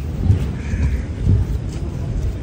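Loud, close rain with low rumbling and occasional heavier thuds, a dense continuous wash of noise.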